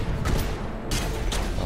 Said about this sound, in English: Oh, that double shot, fuck. That was this heavy cannon.